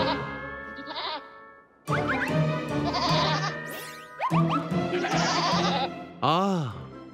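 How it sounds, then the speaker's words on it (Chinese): A cartoon wild mountain goat on a climbing route in the mountains bleats several times in wavering, exaggerated cries, mixed with springy sound effects and short gaps. "我们好像是在摘星山脉放了一只野山羊，这能让攀岩体验变得更真实。"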